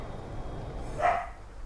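A single dog bark or yip from Call of Duty: Black Ops 2, short and mid-distance, rising briefly above a steady low game rumble.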